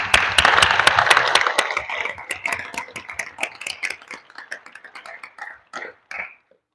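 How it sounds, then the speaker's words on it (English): An audience at a devotional talk breaks into applause, dense clapping at first that thins into scattered individual claps and dies away. "So round of applause for you guys."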